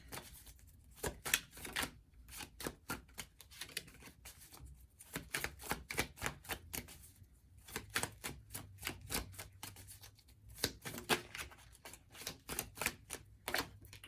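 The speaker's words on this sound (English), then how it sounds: "Sloppy shuffling there." Tarot cards are shuffled loosely for a reading, giving bursts of rapid riffling clicks and slaps that come in irregular clusters for several seconds, close and fairly quiet, with no talking.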